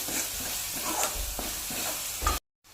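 Homemade masala with turmeric and garam masala frying in oil, a loud close sizzle with rhythmic stirring scrapes that cuts off abruptly near the end.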